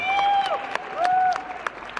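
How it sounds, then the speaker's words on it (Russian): A brief burst of audience clapping rises at a rumba final of the Minsk Open dance championship, fairly close and mixed with whistling tones and a few sharp claps before fading. "Ах, аплодисменты"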